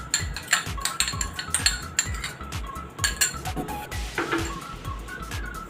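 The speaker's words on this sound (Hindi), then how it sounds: "दही डालकर अच्छी तरह से मिला लें।" A spoon scrapes and clinks against a bowl while flour and yogurt are mixed for halwa puri dough, giving a run of close, rhythmic metallic taps with no talk.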